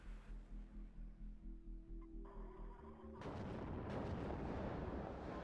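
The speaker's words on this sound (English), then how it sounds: "good use of that artillery to harass the tanks" Artillery fire from the WARNO strategy video game, a run of repeated booming blasts rumbling low and loud, then giving way to a dense, sustained roar of rolling gunfire and explosions.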